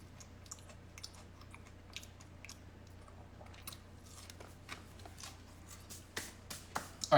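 Air-fried avocado fries being chewed close to the mic, a steady run of soft crisp crunches that grow louder and sharper toward the end.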